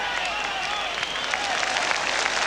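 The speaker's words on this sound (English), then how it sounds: "warm applause around the ground for Ali Dick" A football crowd at a 1983-84 Tottenham Hotspur v Bayern Munich match applauds a substituted player, giving dense, sustained clapping across the stadium throughout.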